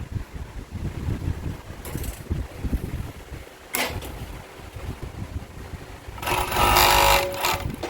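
A sewing machine stitching boxer brief fabric, running in a steady close mechanical whirr with brief pauses and louder rattling bursts as the cloth is fed through.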